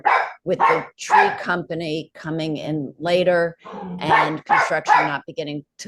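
Dogs bark in the background of a board meeting, their yips and woofs caught under a steady stream of close speech.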